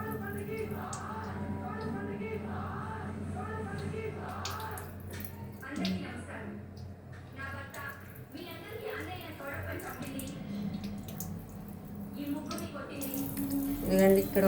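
Tap water flowing through a pressure cooker lid during cleaning, a steady close splash and trickle with drips, under a person talking throughout.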